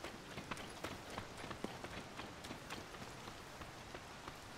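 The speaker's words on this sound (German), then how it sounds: "Weg mit dem Regen!" Steady rain patters across the ground in the video game The Legend of Zelda: Tears of the Kingdom, a dense, even hiss of droplets with scattered sharper drips, continuous and fairly close throughout.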